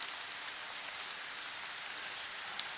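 Steady rain falls in a wooded hollow, a faint, even hiss of drops with no other sounds.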